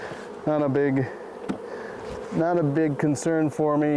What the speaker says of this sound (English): I just shook a bunch of bees in the front of the hive here on the ground